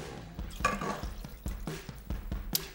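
Beef broth poured into a pot for an umami fondue stock, with irregular splashing drips and liquid pours repeating over a few seconds, close and moderately loud, with no talking.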